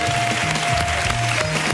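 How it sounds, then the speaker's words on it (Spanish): Studio audience applause on a Spanish television variety show, a steady dense clapping wash filling the whole moment with a faint tonal hum beneath. "¡Un aplauso para ellos!"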